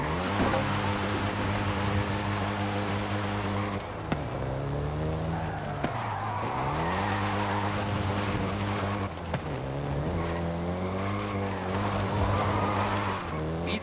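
A Volkswagen Golf GTI racing in Forza Horizon 5, its engine droning loud and close with rising and falling revs through gear changes, plus occasional tire squeal, running continuously without talk.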